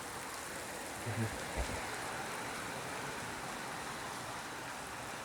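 Heavy rain pours down steadily in a Botad village, a dense, even hiss filling the air, with a couple of faint low thumps early on and no one speaking.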